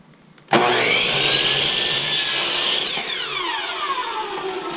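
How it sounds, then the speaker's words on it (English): A miter saw set to about 20 degrees spins up suddenly and cuts through framing wood while building interior walls in a skoolie, a loud whining roar with a shifting pitch as the blade bites, then easing as it winds down. "I'm gonna use the miter saw."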